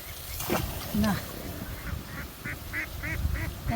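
Domestic ducks foraging on a water-lily wetland quack in a short run of evenly spaced calls at moderate distance, over outdoor background noise and a voice talking.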